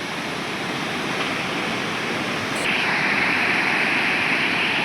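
Fast river water pouring through an old British-era bridge at Harike Headworks makes a loud, unbroken roar, steady and close, stepping up a little in intensity midway.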